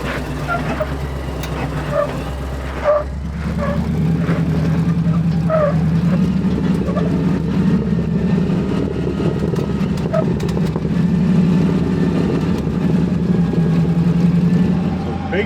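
A Polaris RZR side-by-side in 4-wheel drive descends a slope under engine braking, giving a steady low drone that holds throughout, close by with some talk over it.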